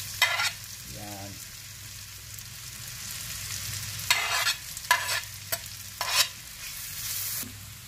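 Razor clams and red onions frying in a pan, with a steady low sizzle broken by several sharp bursts of stirring and scraping, close and fairly quiet.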